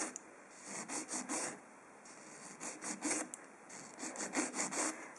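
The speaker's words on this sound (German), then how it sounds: "Und dann feile ich sie einfach gerade." A nail file rasps fingernails straight in quick bursts of short back-and-forth strokes, close and soft, pausing briefly between groups of strokes.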